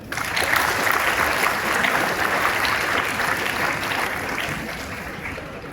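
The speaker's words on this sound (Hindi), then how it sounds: "उसके लिए भी तालियां बजाएं।" A lecture audience at a commemoration of 150 years of Vande Mataram breaks into sustained applause, a dense, steady wash of many hands clapping that stays loud throughout and eases slightly toward the end, with no talking over it.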